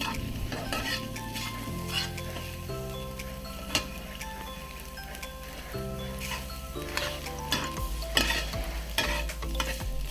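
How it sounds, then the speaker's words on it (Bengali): Beaten eggs with salt stir-fry into bhujia in a hot pan for a spicy masala Maggi: a continuous close sizzle with repeated scraping and tapping of a spatula against the pan, steady throughout. "এবারে ডিমটাকে ভালো করে ভুজিয়ার মতন করে ভেজে নেব।"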